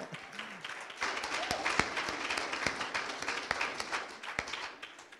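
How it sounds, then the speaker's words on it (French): Congregation at a church service applauds, a steady wash of many hands clapping with a few louder sharp claps standing out, while faint voices and a low tone sit underneath. "On peut applaudir ça."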